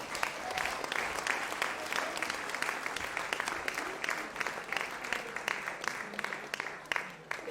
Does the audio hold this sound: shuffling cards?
no